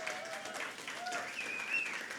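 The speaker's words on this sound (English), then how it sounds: "they need a big round of applause tonight as well" A live audience applauds at an evening creative-industry gathering, a dense, steady wash of clapping that holds for a couple of seconds and fills the room.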